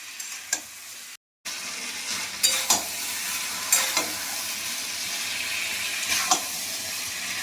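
Prawns stirred and frying in a pan, a steady close sizzle with occasional scraping clinks of the utensil against the pan.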